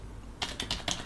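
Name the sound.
typing on a computer keyboard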